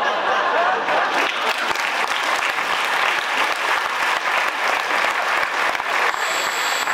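A live audience at a Partička improv comedy show in Uherské Hradiště claps in a loud, continuous burst of applause that carries on for several seconds.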